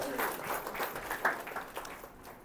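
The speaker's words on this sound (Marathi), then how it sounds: "टाळ्या वाजून देवाला धन्यवाद देऊया" A church congregation clapping their hands in praise, a soft, diffuse patter of many hands heard from a distance, with faint voices mixed in.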